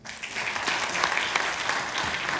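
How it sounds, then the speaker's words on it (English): Audience applause welcomes a contestant at a Ramadan singing-competition audition, a dense, steady round of clapping that fills the whole stretch with no voices over it. "Let everyone please welcome Ali Asghar Bakhtyar with a round of applause."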